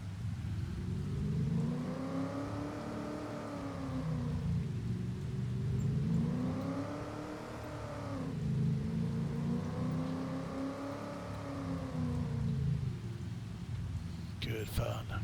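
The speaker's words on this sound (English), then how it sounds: "So let's listen for that engine roar." A car engine in Farming Simulator 25, parked out in the rain, revs up and down in three repeated rising-and-falling surges over a steady low rumble.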